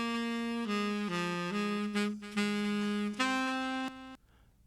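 Sustained synth or instrument melody run through a Pro Tools AIR Dynamic Delay with feedback at zero, several held notes stepping in pitch before stopping abruptly, leaving only a faint brief tail; quiet and clean, no talking.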